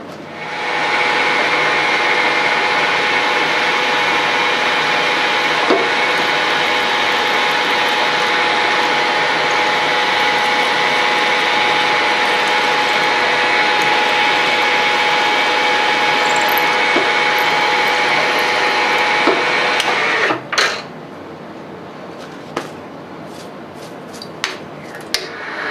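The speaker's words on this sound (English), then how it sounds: "So we're going to drill and tap" A drill steadily boring and tapping holes for 1/4-inch bolts in a slotted part on a South Bend 13-inch lathe, a sustained loud whine running about twenty seconds before stopping, followed by a few sharp metallic clicks and taps.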